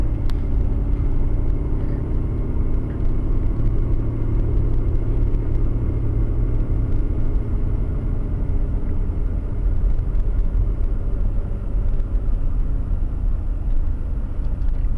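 A car pulls away and keeps driving during a driving test, giving a loud, steady interior road and engine rumble that holds unbroken throughout with no talk over it.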